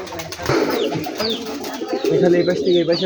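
A Rajshahi Giribaz pigeon coos in soft, repeated throaty calls nearby, mixed with other pigeon sounds, while a person talks over them.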